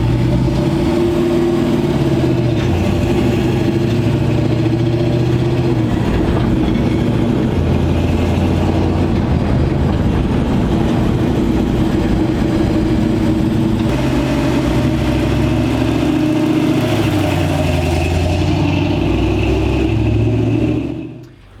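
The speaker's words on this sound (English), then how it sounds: "We definitely need to turn down the idle." A 1965 Chevrolet C10 shop truck idles fast and close, its engine holding a loud, steady throb with a slight wavering of pitch for about twenty seconds before cutting off at the end.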